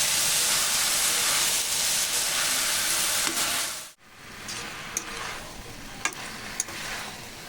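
Boiled banana blossom stir-fried dry in a pan for a spicy Bengali mochar jhal, giving a steady steamy sizzle and hiss with light scraping stirs, louder in the first half, then quieter with a few sharp clinks.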